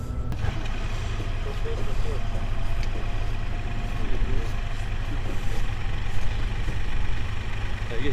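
Cars rolling off a parked ferry at the Mallaig ferry terminal, a steady low rumble of idling and moving engines close by, continuous and heavy throughout.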